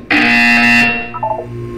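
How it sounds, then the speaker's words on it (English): A loud, sustained electronic buzzer from the video game Portal 2 blares for just under a second, then fades into a softer ringing tail with a few short descending tones. "You will hear a buzzer."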